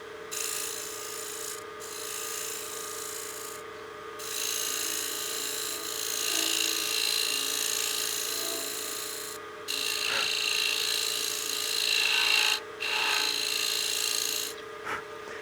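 Abrasive rubbing against a turned wooden utility box spinning on a lathe, a steady close rasping hiss broken by several short pauses as the paper lifts off the wood.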